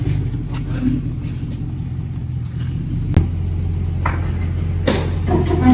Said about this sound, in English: Let me get this truck in here.